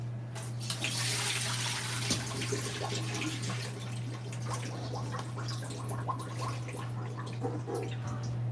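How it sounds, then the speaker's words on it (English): Water steadily pouring and draining off freshly washed fish in a kitchen while preparing Jamaican escovitch fish, a continuous close splashing trickle over a low steady hum, with no talking. "so now we just go throw off the water"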